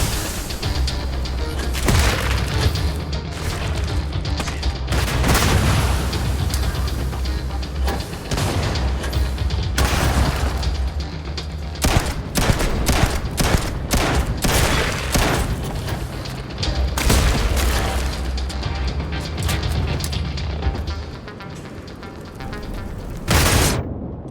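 Dense in-game gunfire and explosions from the video game Starfield roar loudly and continuously, bursts of rapid shots and heavy booms stacked together with brief lulls between.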